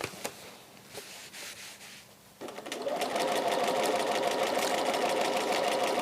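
Sewing machine quilting fabric over a slow sew slip mat, with quiet handling and rustling at first, then a steady fast-running stitching hum that starts abruptly and continues loudly to the end.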